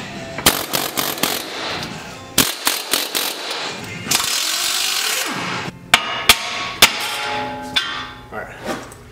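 Pneumatic air hammer driven against an axle nut on an Infiniti G37 during a Tein lowering spring install, firing in sharp repeated bursts of loud rattling blows with short pauses between, close up in a garage.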